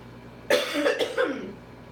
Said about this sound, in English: That's why I'm coughing, FYI.